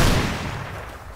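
Gunfire in the survival video game Rust during a base raid comes as a dense, loud burst of shots. The shots blur into one continuous rumbling crackle that fades slightly over about a second.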